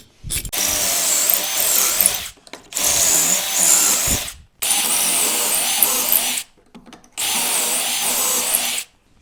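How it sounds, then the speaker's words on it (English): A drill runs through a Kreg boring jig, cutting pocket holes in wooden face frame pieces for a corner sink vanity. Four loud, close whirring bursts of about two seconds each are separated by brief silences. "I'll now be using my Kreg boring jig to drill holes to assemble my face frame."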